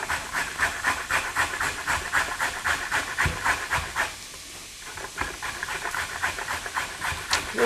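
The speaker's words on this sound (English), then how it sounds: "Just let those start to saute down." Carrots and other vegetables sizzle over medium-low heat in a soup pot, a steady crackling hiss with rhythmic pulses running throughout, close and moderately loud.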